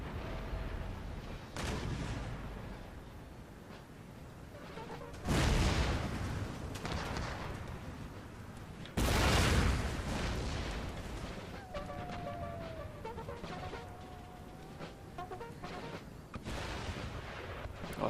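Cannon and musket volleys boom repeatedly in a Napoleonic-era Empire Total War battle, heavy blasts and crackling gunfire rolling over a constant din of battle.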